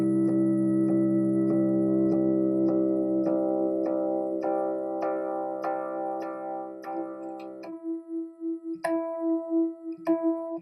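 A sustained chord with a clicking pulse beating through it, then a single held E in just intonation with a few soft plucked re-attacks, sounding clear and close with no speech.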